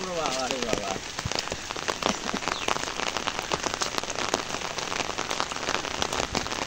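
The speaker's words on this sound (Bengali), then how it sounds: "বাপরে বাপ কি বৃষ্টি" Heavy rain pours down steadily, a dense, close hiss of drops striking surfaces without a break, with a few sharper splashes standing out from the wash.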